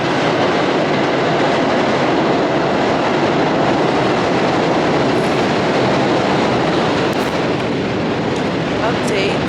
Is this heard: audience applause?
no